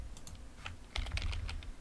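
Quick clicking keystrokes on a computer keyboard while entering a command in an Ubuntu Linux terminal, a short close burst over a low steady hum.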